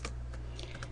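Quick keystrokes on a computer keyboard as a login name is entered to set up a Gmail account, a few clicks in one second over a steady low hum.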